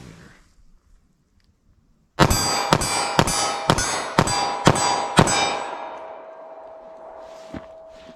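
A 9mm pistol fired rapidly at steel targets gives a quick, even run of about seven sharp metallic clangs, loud and ringing, with the last ring fading out and a faint stray tap afterward.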